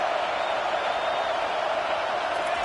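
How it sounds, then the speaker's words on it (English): A stadium crowd at a UT versus Baylor football game roars during a fourth down, a loud, steady wash of noise with no break. "this crowd is making it miserable on this offense"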